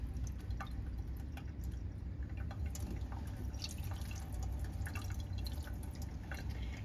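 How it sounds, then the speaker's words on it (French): Tap water rinsing the bottom of a sink, a faint steady stream with scattered drips and splashes running continuously throughout. "On rince le fond de l'évier."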